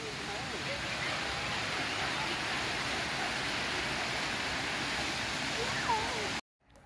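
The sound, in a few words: waterfall of the Grand Cascade, Alnwick Garden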